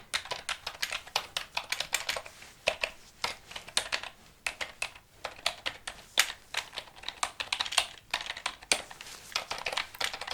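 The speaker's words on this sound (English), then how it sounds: "let me type it in" Fingers type steadily on a computer keyboard in an ASMR medical-exam setting, close and crisp, with irregular clusters of clicky keystrokes and short pauses throughout, no talk.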